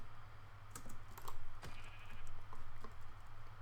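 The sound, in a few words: sheep bleating in the video game Minecraft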